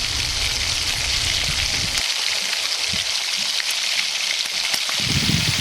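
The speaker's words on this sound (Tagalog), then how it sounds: "Atin na hong sasangkotsahin ngayon ang bawang." Garlic and onion sauté in olive oil with a steady, close hiss and crackle that runs without a break the whole time, with a few faint clinks.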